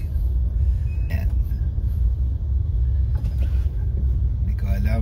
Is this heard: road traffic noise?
yes